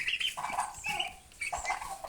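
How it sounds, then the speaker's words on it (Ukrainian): White turkeys on a farm call out in a short run of high, quavering gobbles and clucks, fairly close and moderately loud, pausing briefly midway before calling again. "Отого індик білий останній"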